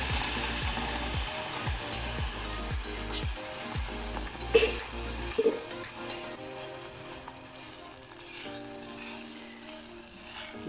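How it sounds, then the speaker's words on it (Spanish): Mango sauce simmering over low heat in a pan while being stirred, a steady close sizzle with scraping and clinking from the utensil, and no speech. "a fuego bajo vamos a estar sazonando durante 10 minutos sin dejar de mover para que no se vaya a pegar"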